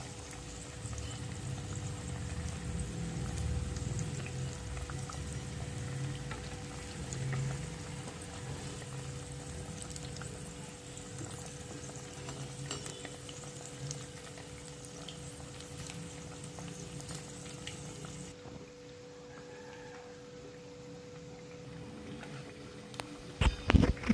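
Banana flower vadai frying in hot oil as the fritters are turned, giving a steady close crackle and bubbling sizzle that thins and quiets toward the end.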